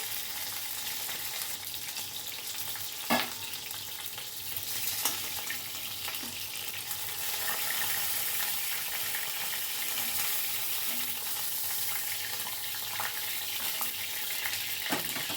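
Cabbage pieces frying in hot oil in a pan, giving a constant close bright sizzle with a few soft clinks and stirs, no talking.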